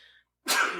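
A single loud, close sneeze bursts out after a brief quiet gap, preceded by a faint breathy intake.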